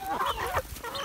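Farmyard chickens clucking at close range as they gather to be fed, several overlapping calls with busy, agitated rhythm and no talking.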